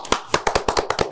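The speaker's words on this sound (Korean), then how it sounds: "박수 한번 칠까요?" Clapping in a studio, a short burst of about eight or nine sharp, close hand claps from a small group, fairly loud and spaced irregularly.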